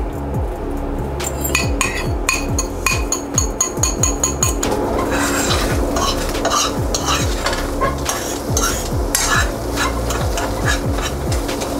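Steady sizzling of eggs frying in a pan greased with cooking spray, with repeated scraping and clinking of a utensil stirring throughout, close and continuous.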